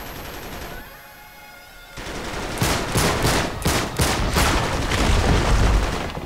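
Enemy gunfire in Uncharted 3 erupts after a brief lull, rapid automatic bursts and heavy impacts hammering in close succession, loud and near, building into sustained fire.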